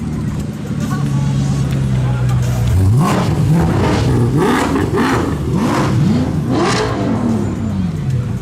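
Several car engines rev and accelerate one after another as cars leave an evening Cars and Coffee meet, rising and falling in pitch over a steady crowd murmur and traffic noise.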